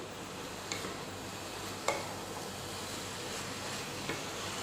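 Gentle stirring of Kerala avial, a mixed vegetable curry, in a pan: a continuous low sizzle and scrape with three light spoon clicks against the pan, no voices.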